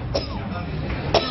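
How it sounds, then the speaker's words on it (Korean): Two short coughs from a man eating gukbap, one early and one near the end, fairly quiet against a low rumbling background. "국밥을 먹던 남편이 갑작스럽게 기침을 토해내기 시작합니다."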